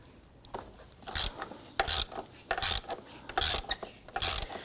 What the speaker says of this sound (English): So I'm going to use a 36mm socket with my swivel and an extension and go ahead and loosen this.